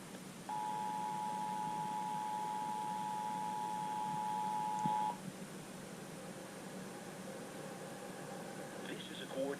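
An emergency alert system test tone on WJR radio in Southeast Michigan: a steady, loud single electronic tone holds for about five seconds, followed by quieter data-like bursts and chirps near the end.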